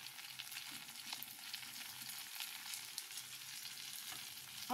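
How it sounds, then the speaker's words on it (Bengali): Ginger and garlic fry with onion in a pan, producing a continuous faint sizzle with light crackle throughout and no voices. "আদা রসুনটা যখন মোটামুটি পেঁয়াজের সাথে ভাজা ভাজা হয়ে যাবে"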